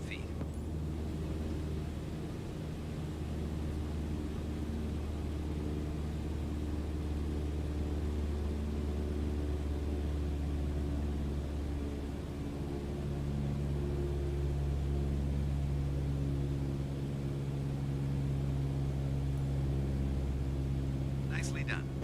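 A light aircraft engine at cruise power around 2,300 RPM at 5,500 feet in Microsoft Flight Simulator 2020: a steady, droning hum with strong low tones, unchanging throughout, with a voice talking over it.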